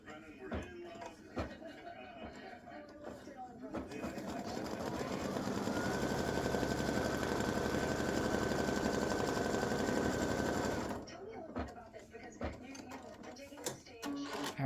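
A sewing machine stitches quilt squares in a steady, humming motor whir that ramps up, holds for about seven seconds, then stops. Softer handling noises and a voice come before and after the run.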